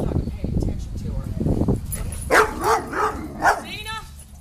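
A Doberman with fear-based dog aggression barks and yips in a few sharp, close bursts, with heavier low rumbling sound before them and some speech-like sound mixed in.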